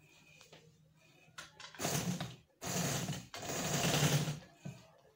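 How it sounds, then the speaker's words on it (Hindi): A sewing machine stitches a poncho laid flat on its bed, running in two long steady bursts with a short pause between them, fairly close and clear with no talking. "मैं इस तरीके से इसको रखूंगी और सिलाई लगाऊंगी"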